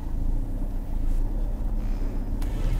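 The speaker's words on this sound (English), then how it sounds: "I'll just drive forward quickly." A car driving forward quickly gives a steady low road rumble with wind noise, continuous and fairly loud throughout, heard from inside the vehicle.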